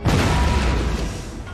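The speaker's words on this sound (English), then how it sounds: "At least it looks like all of these cannons are firing" A deep, booming blast of video game cannon fire from Empire: Total War, with a heavy low rumble that decays slowly, loud and close with no voices.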